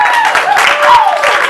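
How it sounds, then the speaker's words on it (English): A short burst of crowd applause for the bass player at a benefit gala, with steady mixed clapping and a voice carrying over the top. "Please give him a round of applause."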